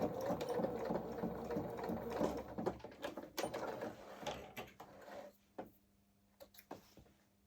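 A sewing machine stitches a placket on a small coverall, running steadily at first, then pausing and giving short reversing bursts at the end, fairly close and alone.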